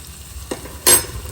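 Raw green chillies dropped into hot oil in a pan, a quiet sizzle followed by a sharp, loud burst of hissing and spitting that fades quickly, heard up close.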